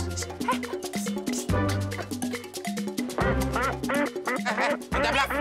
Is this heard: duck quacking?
yes